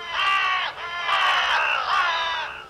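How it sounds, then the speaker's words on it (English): Crows gather and let out ear-piercing caws, three loud, harsh, drawn-out calls running almost together, close and without talk. "they gather around them and let out ear-piercing caws"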